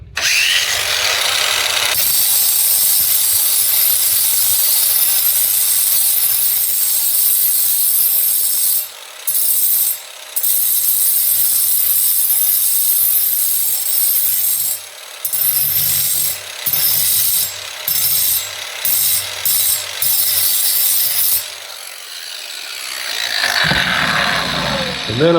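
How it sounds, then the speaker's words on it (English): An angle grinder sharpens the teeth of a stump grinder outdoors, a loud continuous high whine with brief dips where the disc lifts off the metal, then a short spin-down near the end. "So all you need is an angle grinder."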